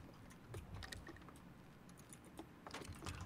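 Someone types quickly on a computer keyboard while playing Battlegrounds, producing faint, rapid, irregular key clicks over a low background hum.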